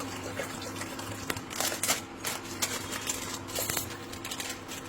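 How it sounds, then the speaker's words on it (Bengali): Water pours steadily into a cooking pot for three servings of Korean cheese ramen, a close, even rushing stream with small splashy clinks, with no talking. "3টে রামেনের জন্য জল দে।"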